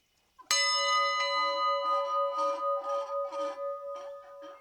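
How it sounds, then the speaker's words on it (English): A single loud metallic clang of a locomotive bell rings out close by and hums on, its tone pulsing as it slowly fades. "Ring the locomotive bell."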